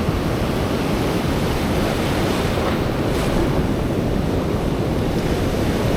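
Ocean surf washing onto a beach while fishing for surf perch, a loud, steady roar of breaking waves mixed with wind buffeting the microphone, with no voices.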